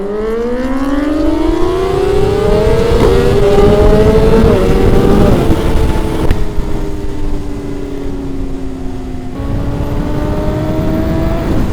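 A BMW S1000RR sport bike engine rises in pitch as it accelerates, drops back while the gear changes, then settles into a steady high drone up close on a ride through curves.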